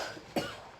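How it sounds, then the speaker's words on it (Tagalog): A single short cough bursts out close up, one quick harsh hack standing alone against a quiet background while someone eats cheesy ensaymada. "Ubo ka man."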